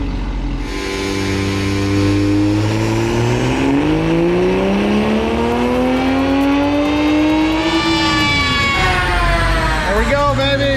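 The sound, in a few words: car engine revving on dyno run with race gas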